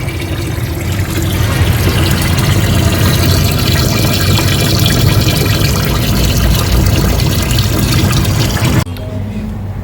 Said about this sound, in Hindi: इसको 3 से 4 मरतबा पानी के साथ, साफ़ पानी के साथ अच्छी तरह धो लेंगे